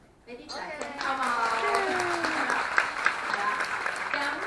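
A small gathering breaks into applause, a steady patter of clapping that rises quickly and carries on beneath a person talking.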